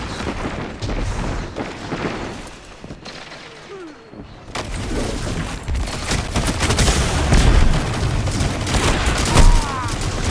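Dense, continuous gunfire and booming grenade explosions in the video game Destiny 2, loud and close throughout, with a brief lull in the middle before the barrage of shots and blasts intensifies again.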